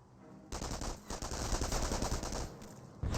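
Video game gunfire in Company of Heroes, a World War II battle with Wehrmacht Volksgrenadiers: a sudden burst of dense, rapid machine-gun and rifle fire that rattles on continuously for about three seconds, loud and close.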